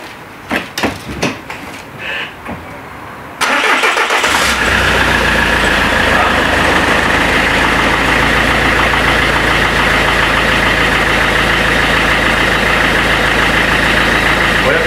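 A car engine, apparently after hitting a curb, cranks over briefly after a few clicks and catches, then idles loud and steady nearby with a constant rumble and possible faint ticking.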